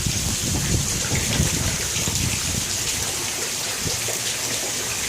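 Steady, dense rain pours down during a thunderstorm, a loud, even hiss of drops striking surfaces close by with no break, and deep low rumbles stirring beneath the downpour.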